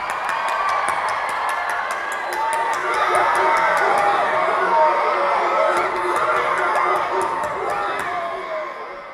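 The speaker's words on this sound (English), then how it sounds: "Give yourselves a round of applause!" A large arena crowd at a concert in Bournemouth is heard as a loud, continuous roar of cheering and screaming with sharp claps running throughout.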